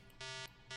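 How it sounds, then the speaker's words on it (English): A buzzing alarm from a phone alarm app sounds in two loud, harsh bursts separated by a brief gap, close and steady with no voice over it. "Again, the alarm is going to sound."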